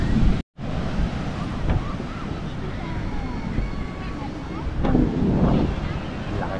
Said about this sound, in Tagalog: Lakas pa rin ng alon.